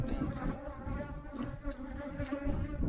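A swarm of honeybees hums and drones continuously at close range around hives, a layered buzzing that rises and falls slightly without pause.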